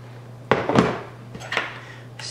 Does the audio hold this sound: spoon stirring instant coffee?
yes